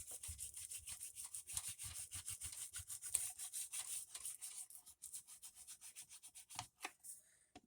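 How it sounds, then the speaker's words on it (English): Glued paper being burnished down by firm rubbing, a close, quiet run of rapid back-and-forth scuffing strokes that slows and thins out toward the end. "Burnish it really good because it spreads that glue out and makes it stick a little better"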